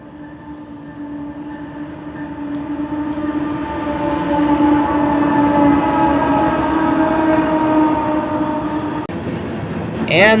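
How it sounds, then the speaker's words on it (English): A southbound potash freight train rolls past with steady, rising wheel and car rumble and droning engine tones, loudest toward the middle, and a horn sounds near the end. "a southbound potash train came through"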